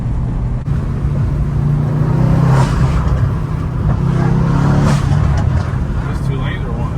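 Tuned Mercedes C63s AMG driving on a road, a loud steady engine drone with brief surges of revving, heard from inside the car under ongoing conversation.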